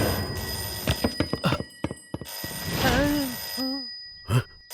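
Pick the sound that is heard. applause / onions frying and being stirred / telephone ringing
telephone ringing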